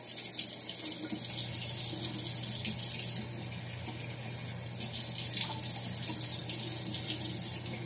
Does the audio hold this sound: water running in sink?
yes